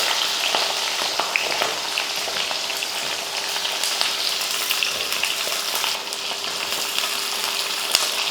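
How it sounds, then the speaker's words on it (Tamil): Mustard seeds, curry leaves and shallots crackle and sputter in hot oil for sambar, a loud, steady, dense sizzle with scattered pops throughout, no voices. "தாளித்து விட்டுறலாம் கொஞ்சம் கடுகுலுந்து கொஞ்சமாக கருவேப்பிலை அப்புறமா பார்த்தீங்கன்னா சின்ன வெங்காயம்"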